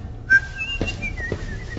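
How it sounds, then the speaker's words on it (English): Someone whistles a short, casual tune of a few sliding notes, close and clear, starting after a brief pause, with faint movement noise underneath. "Engage innocent whistle mode."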